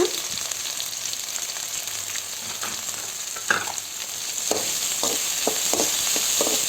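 Chopped big onions sizzle in a hot pan for egg drop curry, a steady frying hiss broken by occasional stirring scrapes and clicks.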